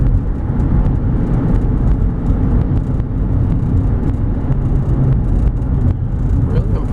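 A 2004 Toyota Highlander Base FWD engine heard from inside the cabin while driving, a loud, continuous rumble with road and wind noise and subtle shifts as it downshifts smoothly.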